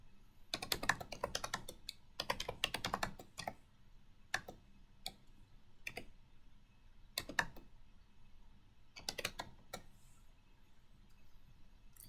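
Keys clatter on a computer keyboard as point values are entered into a class gradebook, arriving in short bursts of quick taps separated by pauses and single isolated keystrokes, close and fairly quiet in a still room.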